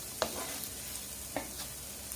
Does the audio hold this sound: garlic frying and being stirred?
yes